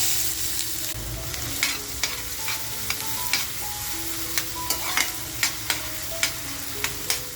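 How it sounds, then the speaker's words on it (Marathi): Chopped onion fries in hot oil in a pan, a loud, steady sizzle close up, punctuated by regular clinks and scrapes of stirring, with no voices. "जो कांदा आपण कापून घेतलाय ना तो टाकून घेऊया."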